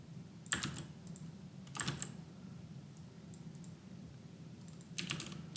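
Typing on a computer keyboard during a programming lesson, heard as three short, fairly faint bursts of clicking keystrokes separated by quiet pauses, with no talking.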